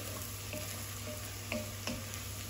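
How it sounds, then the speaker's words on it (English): Minced garlic and vegetables frying in a pot as they are stirred, giving a steady soft sizzle with a few faint scrapes from the stirring. "we don't want to burn the garlic cloves at all, so we just want to stir it up amongst the veg"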